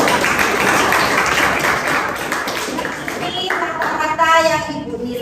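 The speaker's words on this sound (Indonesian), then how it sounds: "Tepuk tangan untuk semua kelompok." A classroom applauds all the student groups with a dense wash of many hands clapping that fades after a few seconds, while a teacher talks over it.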